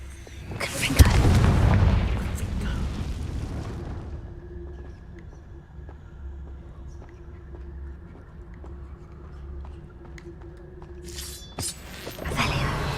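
A Confringo blasting spell in the Hogwarts Legacy video game sets off a loud booming explosion with a crackling burst, then fades into a low rumbling hum and ends with another short bang.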